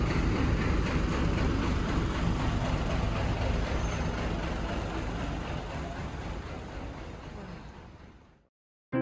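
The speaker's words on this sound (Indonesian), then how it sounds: "Ini lokasinya di parkiran Terminal Giwangan," Buses and trucks rumble in the rear parking lot of Giwangan bus terminal, a dense, loud, continuous engine and road roar that fades slowly and then cuts off abruptly.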